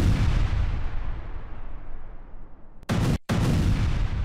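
Artillery fire in a Russian attack on Ukrainian positions near Zaporizhzhia: a heavy, rumbling boom rolling on for several seconds, followed by sharp loud blasts near the end, with no talking.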